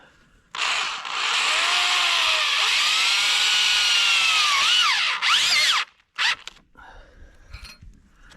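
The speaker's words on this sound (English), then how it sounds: "Yeah, and Keith is going to secure it with 2 Tech screws." A power drill drives tech screws into a greenhouse frame: one long, loud, steady whine with shifting pitch, then a shorter second burst and a brief final blip before quieter handling noise.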